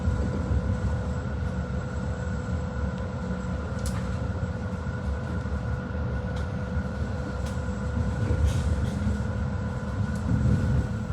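A steady low rumble of a passenger train arriving at Florence Campo di Marte station, with faint squeaks and clicks, continuous and moderately loud throughout, no voices.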